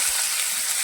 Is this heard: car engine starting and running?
no